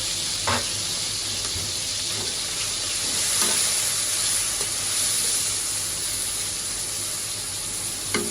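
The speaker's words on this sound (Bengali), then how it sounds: "প্রথমে আমি তেল গরম করে নিয়ে চুলাতে চিংড়ি মাছ দিয়ে দিলাম" Shrimp frying in hot oil on a stove, a steady loud sizzle and hiss throughout with faint pops and stirring clicks, close by and without speech.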